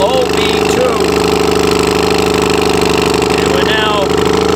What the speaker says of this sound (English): it's a nice running boat, seems to go good, and it runs pretty good with this engine